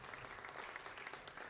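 A conference audience at an international youth forum on SDGs and human rights gives a round of applause, dense steady clapping from a crowd with no speech over it.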